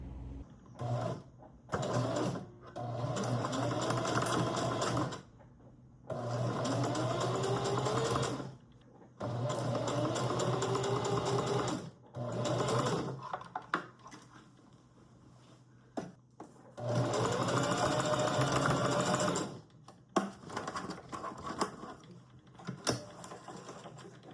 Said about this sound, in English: I sewed my collar, pinned it to the outside, sewed it all down, and flipped it up